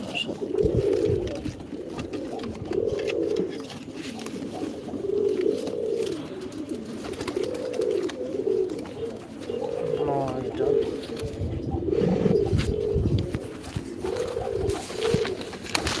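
A pet pigeon coos repeatedly in steady, evenly spaced bursts close up, with someone talking over the calls throughout.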